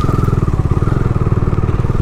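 A motorcycle rides along on roads around Gangtok, Sikkim, its engine throbbing loud and close in a fast, even pulse with steady wind rush and no voices.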